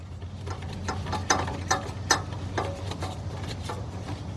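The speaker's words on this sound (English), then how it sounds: "we get our nut driver and we go ahead and tighten up this clamp" Nut driver tightening a hose clamp on the fuel pump of a Chevy LUV, Honda Passport or Isuzu Rodeo, giving a close run of quick ratcheting clicks with a few sharper snaps along the way.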